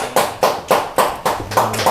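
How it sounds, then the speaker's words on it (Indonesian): Rhythmic handclaps from a small group welcoming a podcast guest, about seven evenly spaced close claps within two seconds. "Tepuk tangan."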